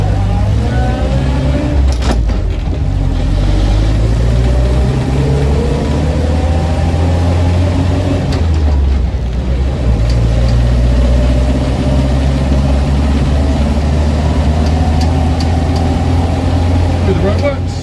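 Land Rover Series 2a 88-inch petrol soft top with its engine running close by, a loud, steady low rumble that continues throughout, while people talk over it.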